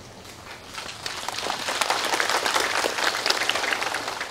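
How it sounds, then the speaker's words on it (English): Applause from an audience at a spiritual teaching lecture starts faintly, then swells into a dense, steady wash of clapping that stays fairly loud and continuous for several seconds. "Why are you clapping?"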